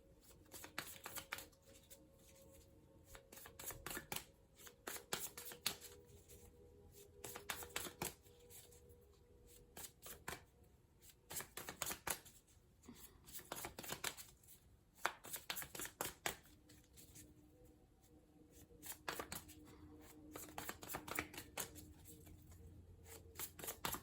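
Tarot cards are shuffled by hand in repeated quick riffling bursts, soft and close, rising and pausing in a steady rhythm for the whole stretch with no speech.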